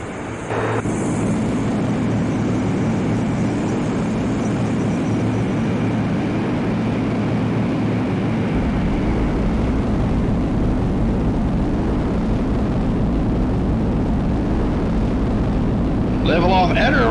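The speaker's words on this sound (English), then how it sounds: "Now hit the backspace key to power up to full afterburner." F-22 jet engine at full afterburner for takeoff in the F22 Lightning 3 flight game, a loud steady roar that holds without a break, with a voice talking over it.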